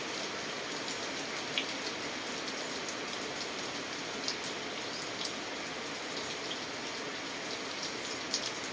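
Rain pours down steadily on a wet day, a dense, even wash of falling drops with occasional brief louder splashes, with no voices.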